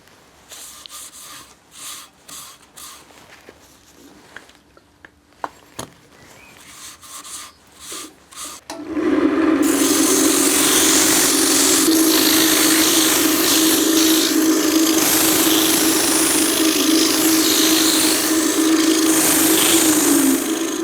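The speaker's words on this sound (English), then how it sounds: "Yes, I think now I can oil it and sand it." A wooden piece spinning on a lathe while it is sanded; after some quiet handling noises, a loud, continuous whirring rasp starts and runs steadily up close.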